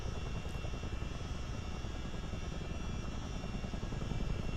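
Miltech Simulations CH-47D Chinook twin-rotor helicopter flying in a flight simulator game, a steady, loud, dense rotor-and-turbine roar with rapid blade chop that holds constant throughout.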